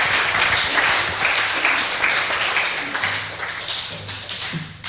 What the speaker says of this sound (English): So big round of applause for everybody.